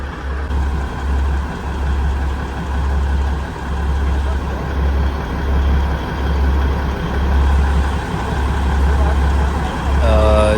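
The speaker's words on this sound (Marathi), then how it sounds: "ACसाठी जनरेटर वगैरे लावलेलं आहे पुढच्या डब्यामध्ये" A generator powering the air conditioning runs in a coach of the Neral–Matheran toy train, a steady loud low engine drone throughout with a faint rhythmic pulse, as a person talks over it.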